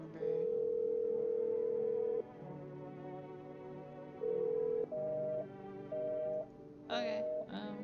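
Telephone dial tone and handset beeps in a video game, a steady tone cut off after about two seconds and then several short tones, with faint talk underneath.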